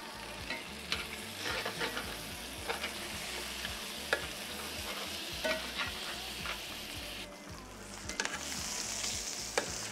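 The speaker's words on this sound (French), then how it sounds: "Et on saisit la viande." Pork steaks sizzling and searing in hot butter in a pan, a steady crackling fry with occasional stirring scrapes and spatters, close up and fairly quiet.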